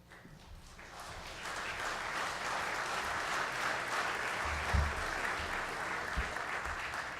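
Applause from mourners at a memorial service in a chapel, a sustained, fairly loud wash of many hands clapping that swells in and continues steadily to the end.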